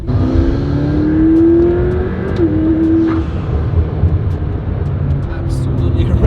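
A McLaren P1 supercar engine revs loud and close, its note climbing steadily as the car accelerates, then settling into a sustained roar with road and wind noise.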